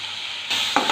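Store-bought ginger garlic paste hits a pan of fried tomato for a paneer curry, bursting into a loud, steady sizzle with a sharp spike of hissing and stirring partway through.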